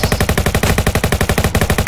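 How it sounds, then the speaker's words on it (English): Rapid automatic gunfire in the Roblox game Jailbreak, a loud continuous burst of evenly spaced shots at a fast, steady rhythm lasting about two seconds, with no voices. "Oh, I hear shots."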